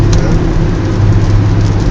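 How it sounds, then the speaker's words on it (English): Heavy rain pours down during a lightning storm, a loud, dense, continuous hiss and rumble with no break and no voices. "Sounds a big rain. Yeah, we're getting it pretty heavy."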